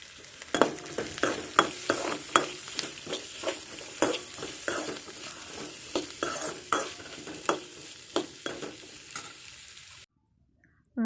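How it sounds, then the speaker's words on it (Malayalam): Shallots and chopped okra sautéing in coconut oil in a home kitchen, a soft steady sizzle broken by regular scraping stirs of a spoon against the pan, close and moderately loud, with no talk, ending in sudden quiet. "വെളിച്ചെണ്ണയിൽ ചെറിയ ഉള്ളി നന്നായിട്ടൊന്ന് വഴറ്റിയെടുക്കാം"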